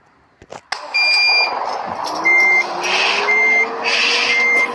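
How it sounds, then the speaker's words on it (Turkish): A bus in a Bus Simulator video game shifts into reverse and its backup alarm sounds, evenly spaced loud electronic beeps repeating over a low rising engine hum after a few clicks at the start. "Hemen geri vitesi takalım şöyle."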